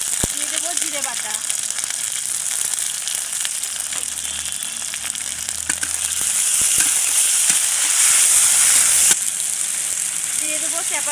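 Garlic, ginger and cumin pastes hit hot oil in a pan, giving a bright sizzle that swells louder partway through, with scraping stirs and a voice talking over the frying.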